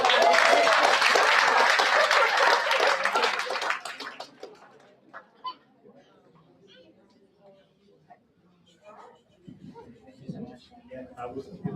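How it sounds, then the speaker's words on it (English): An audience at a citizenship ceremony breaks into loud applause, which tapers off within a few seconds into quiet room noise with scattered murmurs and brief talk. "Another round of applause, everyone."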